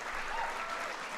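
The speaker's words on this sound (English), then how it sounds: "can we just give another round of applause to the President of the United States for his leadership on this issue?" An audience at a social media summit applauds with a brief, dense burst of clapping that sounds steady and moderately distant.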